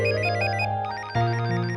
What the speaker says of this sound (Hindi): देख देख, तेरा अश्विन सर का फोन होगा।